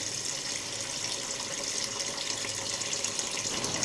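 Tap water runs steadily into a pot for pork rib soup, a continuous, fairly quiet hiss with no pauses or talk.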